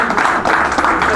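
Brief burst of dense crowd applause from an audience at a football tournament draw in Saubrigues, steady clapping throughout with no pauses.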